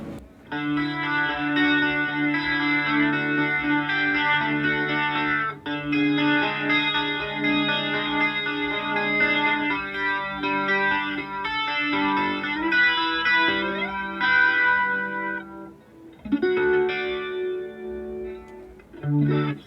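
Sustained organ-like chords through an Electro-Harmonix rotary speaker emulation guitar pedal, swirling with warbling, phasing movement and a slight overdriven edge, loud and continuous with chord changes.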